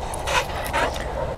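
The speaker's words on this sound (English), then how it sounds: "Fastest dog on the planet. Look at this beast." A dog at Tanner Landing Park pants in quick, breathy bursts with a few short whimpers, close and fairly loud, over a light outdoor background.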